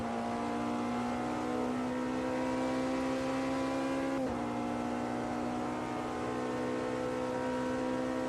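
Hypercar engine in the racing game Automobilista 2, a steady high-pitched droning whine held near constant revs, with a brief dip and recovery midway.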